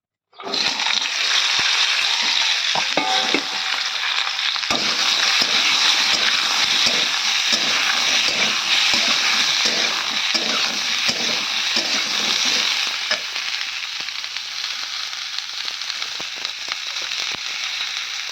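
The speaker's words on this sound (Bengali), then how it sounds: "ওই উস্তে ভাজার একই তেলে কিন্তু আমি বেগুন আর আলুগুলো ভেজে নেব।" Eggplant and potato pieces dropped into hot oil, already used for frying bitter gourd, set off a loud, dense, continuous sizzle that starts abruptly and holds steady, with light spatula knocks and no talking.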